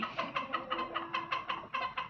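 Bhimavaram breed hens on a rooster farm cluck in quick, rhythmic bursts, about ten short calls in a row, close and clear with no talk.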